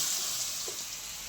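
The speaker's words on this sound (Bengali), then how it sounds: "এরকম একটা পমপ্লেট মাছ হলে গরম ভাতের সাথে দারুণ লাগবে। তোমরাও খেয়ে দেখবে একবার। এগুলো ভেজে নেবো" Pomfret fish fries in oil, a soft steady sizzle that stays constant through the short moment, fairly quiet with a faint knock partway through.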